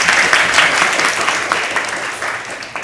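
A conference audience at an international academic gathering gives loud, sustained applause, dense clapping that holds steady and tapers slightly toward the end.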